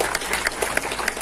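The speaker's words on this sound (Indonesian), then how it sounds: "Tepuk tangan untuk Bapak dan Ibu." An audience claps at a provincial-level World Environment Day commemoration held in a botanical garden in Central Java, a dense, steady patter of many hands in a brief burst.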